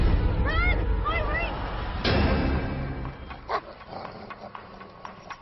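A dog in the horror film Are You Scared? 2 gives a few sharp barks and whimpers at the start, followed by a loud thud and mixed film sounds with speech.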